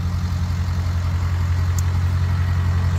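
A converted bus engine idles steadily close by, a deep low rumble holding even and continuous with no change in pitch, with no talk over it.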